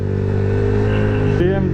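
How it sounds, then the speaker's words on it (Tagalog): A loud BMW motorcycle engine roars steadily up close, its rumble shifting pitch near the end as it revs. "Pangas ng motor ah."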